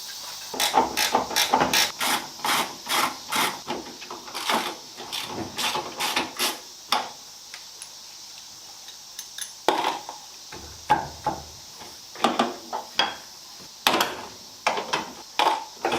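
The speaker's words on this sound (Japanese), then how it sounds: "バックドアのダンパー外して" Hand tools click, clack and rattle in a workshop as the rear hatch damper is removed from a Mazda RX-7 FD3S under restoration, a run of quick sharp metallic taps, then sparser knocks and clicks.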